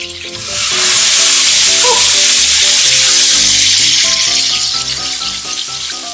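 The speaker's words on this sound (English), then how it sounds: "You can already see it's browning really nicely, it's searing really nicely" Porterhouse steak searing in butter in a pan, a loud, dense, close sizzle that swells quickly and holds steady with bubbling crackle, no voices.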